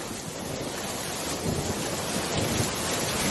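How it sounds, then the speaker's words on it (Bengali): A roaring storm in an animated village scene, with steady broadband wind and rain noise that swells slightly toward the end, continuous and fairly loud with no voices. "দেখো কেমন ঝড় হচ্ছে"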